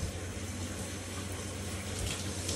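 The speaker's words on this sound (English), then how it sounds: "Now I'm in the shower." Shower water runs steadily while a dog is being washed, a continuous close hiss and splash of spray with no pauses and no voices.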